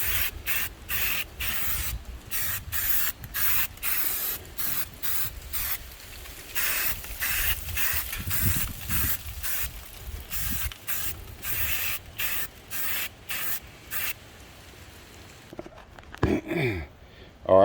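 Aerosol paint sprayed in repeated short bursts onto the underside of an RV table, a steady rhythmic hiss pulsing on and off at close range with no one talking.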